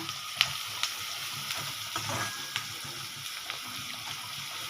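Chopped onion fries for upma in a pan, giving a steady, quiet sizzle with occasional soft scrapes and stirring taps, and no voices.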